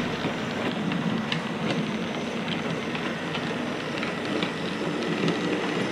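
Continuous rumbling rattle of a small model train running along its track, steady and close, with faint clicks over the noise.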